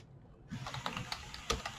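Typing on a computer keyboard while coding a website, a brief run of light key clicks after a short quiet start, close and soft, with no voices.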